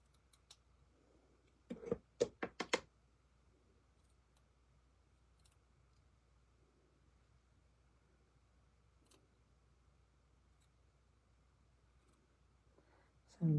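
Scissors cutting pieces out of paper card while making a handmade card: a quick cluster of four or five sharp snips, then near silence with faint rustles and a final snip, close and quiet.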